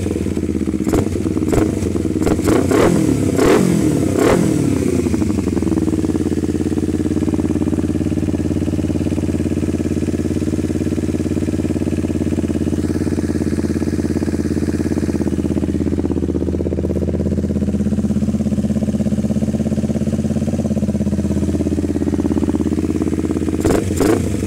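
Kawasaki Ninja motorcycle engine with 12.5 compression, running loud and close with a few quick throttle blips at the start, then settling into a steady rumbling idle.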